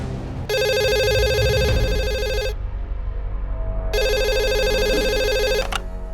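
A telephone rings in an office, two long electronic trills separated by a pause, loud and close, over a low background hum with no talk.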